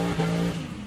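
A truck with a slipping transmission that won't change gear, its engine holding a steady droning pitch that rises briefly and then sags, loud and close with no talk.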